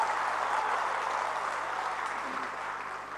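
Sustained, thunderous applause from a large crowd at a party general assembly, dense and even throughout with a slight fade toward the end.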